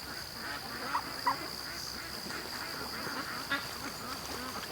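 Muscovy ducks at a creek give a few short, soft calls at a middling distance. They sound over a steady outdoor hiss and a thin high hum.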